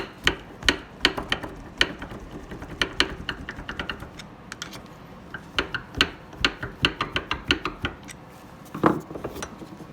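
Mechanical clicks and clunks come from a frozen brake pedal on a Polaris RZR as it is rocked back and forth by hand, sounding as irregular close knocks and rattles that bunch in short bursts with brief pauses between.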